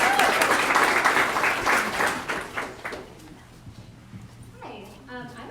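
Applause from an audience at a photography exhibit, dense clapping at the start that thins out and fades over a few seconds before a voice begins to speak.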